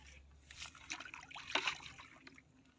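Water being poured from buckets into a drum on a rice farm, a faint uneven trickling and splashing that swells briefly in the middle and then settles.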